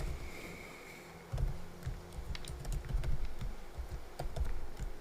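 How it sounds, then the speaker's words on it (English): Password being typed on a computer keyboard: a run of quick, close, crisp key clicks in an irregular rhythm, with no one talking. "I'm going to put my password in."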